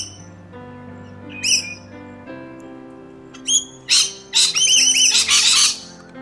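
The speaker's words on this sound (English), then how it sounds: "Ignoring the background laughter of the kookaburras, this bird is very interesting." Several bursts of loud bird calls from kookaburras laughing in the Hunter Valley, NSW, rising in the second half over a steady low hum, while an Eastern Koel is nearby.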